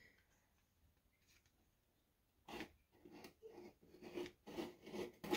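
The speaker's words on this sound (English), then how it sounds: "I'm going to cut this vanilla bean open. I'm not going to scrape anything. I'm just going to cut it open." A knife slices open a vanilla bean on a cutting surface, giving a few quiet, close rasping scrapes and soft taps that grow slightly louder toward the end, with no voices.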